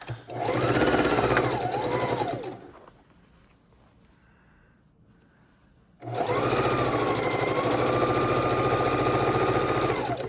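A sewing machine stitches a scrappy quilt in two long loud bursts of continuous motor whir, separated by a quiet pause of a few seconds, with no talking.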